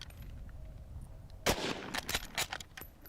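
A single sharp report from a Lee-Enfield No.4 Mk.I rifle cracks loudly at the range, followed by a few trailing echoes and clatter as it fades.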